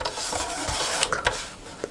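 Black card stock being cut down for crafting with a trimmer, giving a brief run of scraping, rasping strokes with a few sharp clicks, close and alone.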